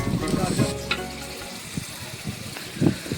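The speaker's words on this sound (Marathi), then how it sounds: "मीठ कांदा आता भाजतोय" Onion with salt sizzling in a pan over a wood-fired stove, with stirring scrapes, a low steady crackle with a few louder bursts, close by.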